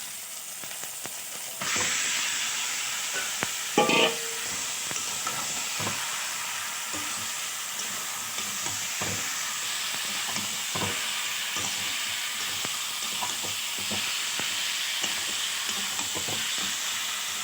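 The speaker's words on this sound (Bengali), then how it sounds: "পুরো মশলাটা এর সঙ্গে মিক্স করে নিচ্ছে।" Onions and spice masala are stir-fried for Kadaknath chicken, a steady loud sizzle with frequent scraping stirs of a spatula throughout, no voices.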